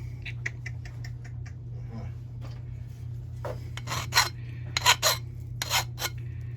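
A metal hand file rasps across silver-coated copper or brass from a salvaged 600 amp breaker: a quick run of light strokes, a pause, then louder, longer, uneven rasping strokes close by.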